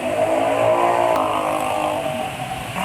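A motor engine running on degraded, worn-out oil idles with a rough, steady drone and uneven low rumble, close and continuous, fading slightly toward the end.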